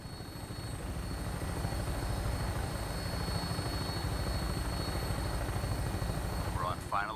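Aircraft flying on approach to an airport in the video game Fallout 4, a steady, loud rotor-like engine drone with rhythmic low pulsing that holds throughout, with a brief voice near the end.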